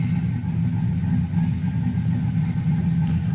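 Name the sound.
LS-swapped Chevrolet Caprice engine idling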